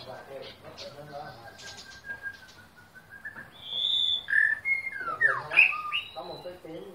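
A white-rumped shama sings clear, whistled phrases with rising and falling notes, growing louder in the second half over a soft background of other chirps and murmuring voices.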